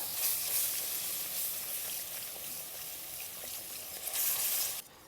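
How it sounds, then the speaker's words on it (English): Milk is whisked into gravy in a hot pan, giving a steady close sizzling hiss with soft stirring scrapes and no talk. "So I'm going to start off with a little bit of milk. Just stir it in, whisk it together."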